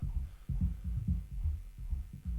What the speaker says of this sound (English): this is what the bass sounds like